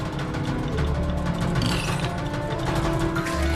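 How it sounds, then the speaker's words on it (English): Rattling and clattering from a head pot being shaken in the puppet video game Off With His Heads (Puppeteer), a dense and steady mechanical jangle that runs throughout without any speech. "What's rattling around in there?"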